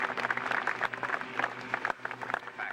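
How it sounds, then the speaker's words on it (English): An audience at the Woodvale 94 gathering gives Dr. Jeremy Shaw a round of applause, a steady, moderately distant patter of many hands clapping with a brief dip partway through. "I'm sure you're going to give him a jolly good round of applause for many, many years of hard work"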